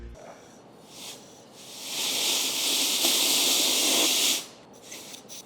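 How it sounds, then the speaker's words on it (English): A compressed-air blowgun hisses through the fuel line of a 1969 Ford Mustang abandoned for 32 years, a loud steady blast of about two and a half seconds framed by quieter short puffs. "I'm gonna take the blowgun and blow air through."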